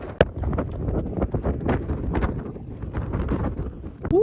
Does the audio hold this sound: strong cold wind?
yes